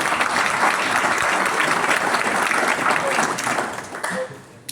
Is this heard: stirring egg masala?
no